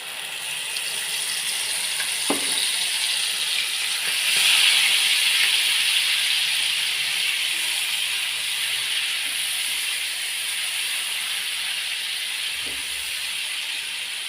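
Spices and ground cashew paste fry in hot oil in a pan, giving a continuous bright sizzling hiss that swells briefly and stays steady throughout, with a few faint clicks of utensils.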